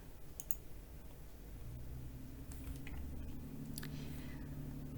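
Several sharp, quiet computer mouse clicks spaced irregularly against a low background hum, as arrow buttons in an inventory program are clicked.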